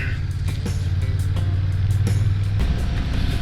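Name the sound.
Honda Rebel 1100 motorcycle riding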